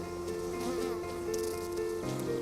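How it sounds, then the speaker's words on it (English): Honeybees swarm around beekeepers at an open hive during honey collection, a dense, continuous buzzing hum with shifting pitch as insects fly close by, heard without speech. "You're covered in bees."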